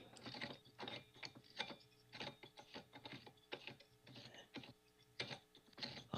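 A wall monitor mount clamp being screwed onto a desk, giving a run of short, close mechanical ratcheting and clicking bursts in an irregular rhythm, each about half a second long, with no voice.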